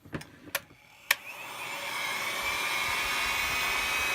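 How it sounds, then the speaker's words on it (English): A hot air gun heating a part from a Herbert Schmidt Texas Scout .22 Long Rifle, with a few sharp clicks as it is handled, then a steady loud blowing whoosh that holds evenly to the end. "I have a hot air gun here."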